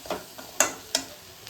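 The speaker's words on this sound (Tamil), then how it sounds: "நல்லா ரவாவை பரட்டிக்கலாம்." Soft scraping and a few sharp clinks as dry semolina is stirred in a hot pan for pineapple kesari, quiet with no talking.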